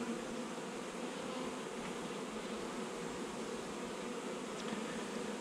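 A honeybee colony that is building swarm cells gives a dense, continuous buzz of many bees, steady and close throughout, with no voices.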